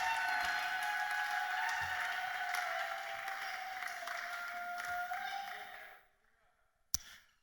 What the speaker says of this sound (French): Acclamez plus fort encore